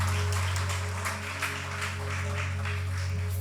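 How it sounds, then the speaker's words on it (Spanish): A church congregation applauds with steady, dense clapping over a constant low hum that continues throughout. "Bríndele las palmas al Señor."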